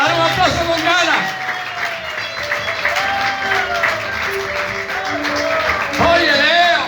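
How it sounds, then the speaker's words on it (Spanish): A church congregation claps during a service, crowd applause and cheering running through with a voice speaking loudly over it. "Dale un aplauso con ganas, dale un aplauso con ganas."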